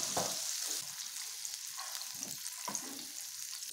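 Green chillies sizzle lightly in oil in a kadhai while a chilli fish curry is being cooked. The frying is a soft, steady crackle, broken by occasional stirring scrapes.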